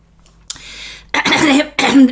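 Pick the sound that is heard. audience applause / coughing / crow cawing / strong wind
coughing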